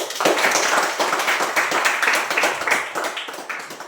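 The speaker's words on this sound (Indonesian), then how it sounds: "Kita tepuk tangan buat Amun" A group claps for someone after a prayer at a gathering, brisk, fairly close, uneven hand claps at a lively pace, continuing without voices.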